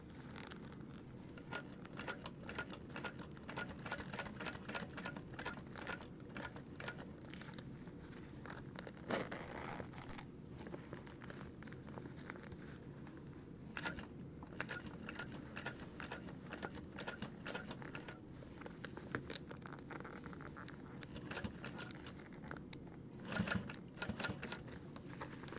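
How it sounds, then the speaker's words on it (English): Sewing machine top stitching through the seam allowance on a mini backpack gusset: faint, quick mechanical ticking and rattling in short bursts with brief pauses, low and close. "So you're top stitching on the gusset through the seam allowance."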